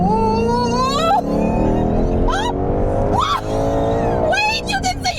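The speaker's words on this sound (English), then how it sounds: "I'm in a car. 760 horsepower car going." A Twister Orange 2021 Shelby GT500 Mustang with 760 horsepower, its engine rumbling steadily under near-continuous talk from people inside the car.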